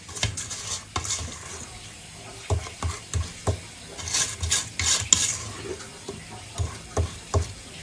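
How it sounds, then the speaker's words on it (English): Peanut butter cookie batter is whisked in a bowl, with scattered clinks and scrapes coming in irregular bursts, fairly close and quiet. "before you put in that dry ingredients, give it a little whisk"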